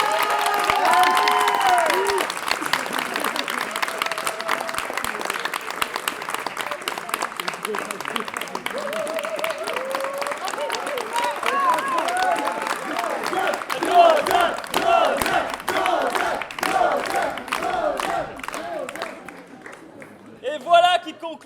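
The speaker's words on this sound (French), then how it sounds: "Applaudissements." Audience at an improv show applauds and cheers loudly and steadily for about twenty seconds as a crowd, dense claps filling the room, with voices mixed in and a brief louder burst near the end.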